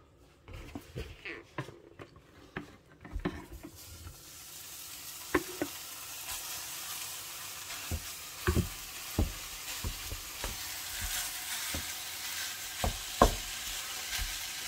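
Ground beef for cheeseburger egg roll filling browns in a hot pan with a steady close sizzle, broken by frequent sharp knocks and scrapes of a utensil against the pan.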